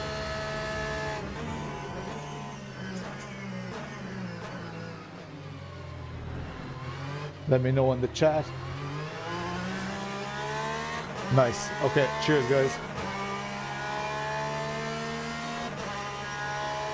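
A race car engine in the racing game Le Mans Ultimate, in a beginner online lobby, revs and shifts with rising and falling whine and brief tire squeals, continuous and fairly loud, with a voice talking over it.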